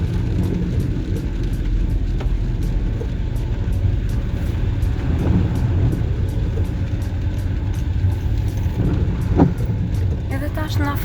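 Car engine droning steadily under load during an Albanian-language driving lesson on a practice course at night in the rain, a continuous low rumble with slight swells as throttle is added, close and constant throughout.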